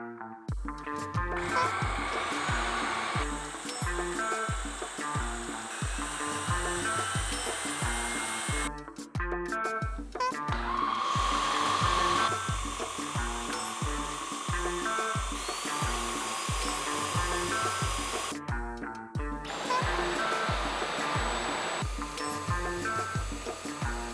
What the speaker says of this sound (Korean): 각각의 청소기를 1단계와 터보 모드로 나눠서 실험해요.